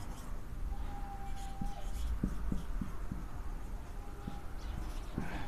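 Pen or chalk tapping and scratching while a class 12 maths integration problem is worked out, with faint scattered taps and strokes over a low room hum and no clear talk.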